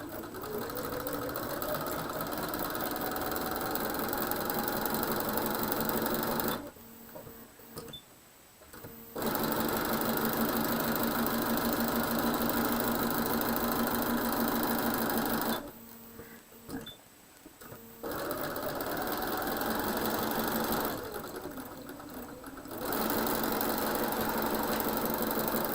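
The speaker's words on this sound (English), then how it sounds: "sewing right down the middle of that block" A sewing machine stitches down the middle of a quilt block in three long, steady runs of fast mechanical whirring, separated by brief quiet pauses, close and moderately quiet.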